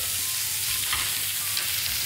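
Bread buns toasting in butter in a frying pan while burgers are being made, giving off a steady, close sizzle and crackle from start to finish, with no voices.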